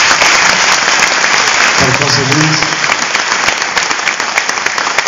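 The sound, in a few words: audience applause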